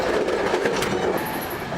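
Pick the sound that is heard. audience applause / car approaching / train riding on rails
train riding on rails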